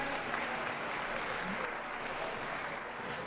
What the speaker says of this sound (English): Huge round of applause for our senior showmanship final drive.